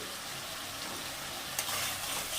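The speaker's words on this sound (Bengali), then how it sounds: "দিয়ে আবারও ভালো করে নেড়ে নেব।" Fried potatoes being stirred into a pan of fish curry with singi fish: a soft, steady sizzle, faint and close, with a brief scraping stir near the end and no talking.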